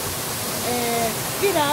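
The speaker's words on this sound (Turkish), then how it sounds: "bu şelalenin sesini hep beraber dinleyelim" Natural waterfall rushing as a steady, continuous broadband wash, with faint speech and a few voiced tones rising over it near the end.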